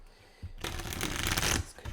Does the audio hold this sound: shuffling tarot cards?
yes